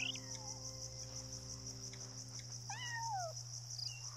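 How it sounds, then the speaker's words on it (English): Several stray cats meow in the video game Yonder: The Cloud Catcher Chronicles: a few short rising and falling meows come at irregular moments over a steady high insect-like chirring and a low ambient hum. "Okay, well, they're stray cats."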